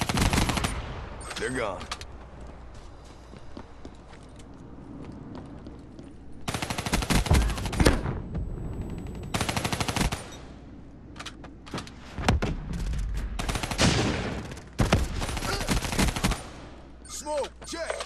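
A Kuda submachine gun with rapid fire and fast, extended mags fires in Black Ops 3 online play. Sharp bursts of automatic gunfire are separated by quieter stretches of game ambience, and a voice speaks briefly.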